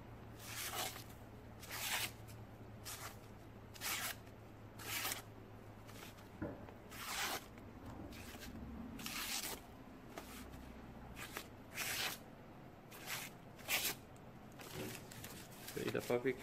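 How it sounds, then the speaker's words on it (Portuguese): A sharp 5160 steel knife slicing through paper, making a series of short, crisp rasping swipes in an irregular rhythm, close and fairly quiet with a faint low hum underneath. "Consegui cortar o papel aqui."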